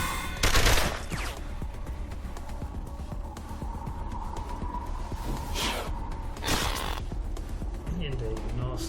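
Assault rifle fire in the video game Wasteland 2 crackles in a few sharp bursts over a steady droning game soundtrack, with one strong burst near the start and two more later; fairly loud and continuous background.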